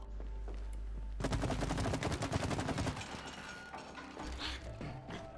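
Rapid bursts of gunfire in the co-op video game It Takes Two, a dense rattling volley of repeated shots that runs for about two seconds and then trails off into quieter game noise.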